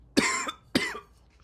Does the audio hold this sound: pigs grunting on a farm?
no